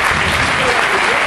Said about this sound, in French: Je vous demande d'applaudir Alain Larivière